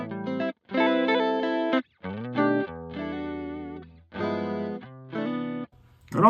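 A TC Chorus guitar effects pedal shimmers over bursts of electric guitar chords, with short gaps between strummed phrases and a thick, wavering modulated tone, loud and close, without speech.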